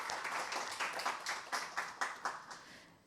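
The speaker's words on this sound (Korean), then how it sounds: "다시 한번 큰 박수 부탁드립니다." Faint applause at a Korean policy forum on industrial accident insurance, a soft audience clapping in loosely rhythmic bursts that trail off toward the end, with no talking.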